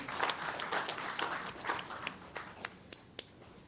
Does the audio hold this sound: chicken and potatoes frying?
no